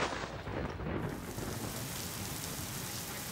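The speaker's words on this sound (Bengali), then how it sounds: "এই আবার বৃষ্টি নামলো দেখ" Thunder rumbles over steady rainfall that begins and settles into a continuous, loud downpour, with the broadband wash of rain filling the whole stretch and no voices present.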